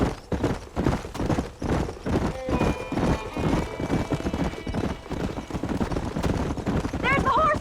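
Rapid, loud hoofbeats of horses galloping in the video game Red Dead Redemption, with a horse whinnying near the end and a game soundtrack underneath.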